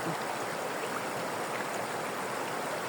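Steady broadband rush of a mountain waterfall pouring down in Suldtal near Aeschiried, Switzerland, a continuous close roar of falling water with no break and no voices.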